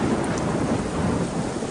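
Heavy rain with a low rumble of thunder, a dense continuous wash of noise, loud and close, with no voices.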